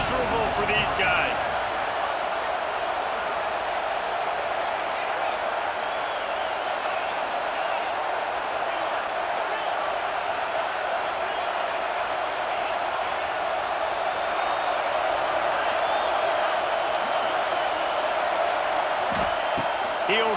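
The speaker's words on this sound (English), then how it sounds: "Man, this crowd really affecting the football game." Loud stadium crowd at a football game, a steady roaring wash of cheering that continues throughout, with a commentator talking over it.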